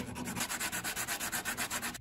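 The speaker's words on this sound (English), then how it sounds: "so I'll have to sand everything to make it work" Wooden gear teeth on a model car odometer are sanded by hand in quick, even back-and-forth strokes, a soft close rasping rub repeating about eight times a second.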